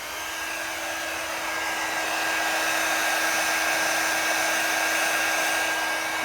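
A heat tool blows with a steady, loud whooshing hiss and a thin high whine as it melts embossing powder on a handmade card, running continuously without pause.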